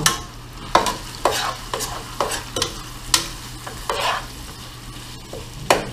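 Beef stew meat is stirred in a pot with a spoon, giving sharp, irregular scraping knocks roughly every half second over a low, faint sizzle, close and with no speech.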